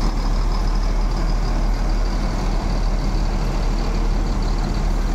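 Mercedes-Benz 1626 Euro 4 air-suspension bus reversing, its loud diesel engine droning steadily and close at hand with a constant low rumble throughout.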